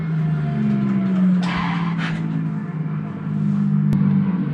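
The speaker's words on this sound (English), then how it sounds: "here's some more drifting of the sim" Sim-racing car drifting in a video game simulator, a steady loud engine drone with tire squeal sliding across it throughout, no talking.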